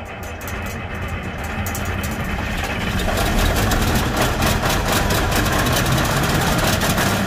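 A John Deere 4440 tractor engine cranks and catches on a cold day, then settles into a loud, steady low diesel idle nearby, building slightly in strength as it runs.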